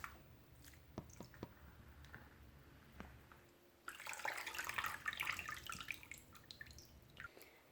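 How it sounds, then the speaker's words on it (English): Rice being washed in water and drained by hand: faint drips and small splashes, then a brief burst of running, pouring water before quieter trickles, close and soft with no talking. "So go ahead and wash it and try and drain it out using a sieve or your hands"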